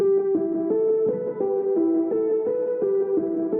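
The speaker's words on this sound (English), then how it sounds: "It's a simple piano and it sounds like this." Simple piano arpeggio from a drum and bass remix, heavily processed with distortion, repeating short notes in a steady loud pulsing rhythm, alone without voices.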